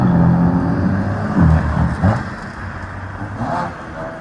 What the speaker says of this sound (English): right there you could hear from the downshift that the valve's shut